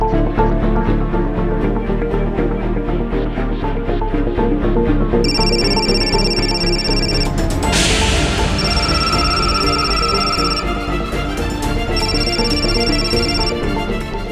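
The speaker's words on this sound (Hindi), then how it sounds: "इतना रात को कौन फोन कर रहा तुमको?" A phone rings late at night in a home, its electronic ringtone sounding in repeated bursts over loud, dramatic background music.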